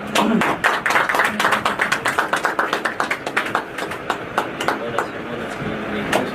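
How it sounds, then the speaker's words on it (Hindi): Guests at the inauguration of a tour company office in Pune clap, a loud run of close, rhythmic handclaps that slowly thins, with voices underneath. "जोरदार तालियां"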